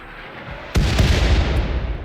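Mortar fire in RimWorld: a sudden loud blast strikes after a quiet moment, then rolls into a sustained, rumbling roar of impact that slowly fades.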